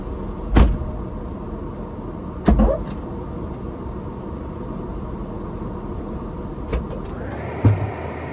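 A car engine idles steadily in the cold of a northern Michigan winter while gear is loaded, with a few sharp thumps of doors or hatches closing and a brief whirring power window near the end.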